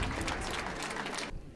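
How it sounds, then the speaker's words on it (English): Audience applause for a panelist at a science-night panel discussion: a dense, steady wash of clapping that carries on evenly, then cuts off sharply near the end. "Can I get a round of applause for Martin?"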